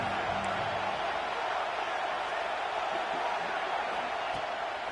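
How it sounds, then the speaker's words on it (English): Football stadium crowd at a college game roars steadily behind the defense on third down, a loud, continuous wash of cheering noise with no break across the whole stretch. "Decibels rising as the crowd gets behind this defense on 3rd down."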